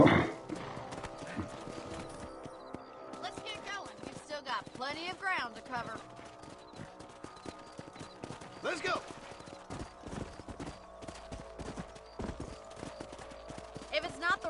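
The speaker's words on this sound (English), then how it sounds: "Let's get back on the horses and see what else is going on." Horse hooves clip-clop at a run in Red Dead Redemption on PS5. The steady patter runs under a voice and game ambience, with a brief whinny.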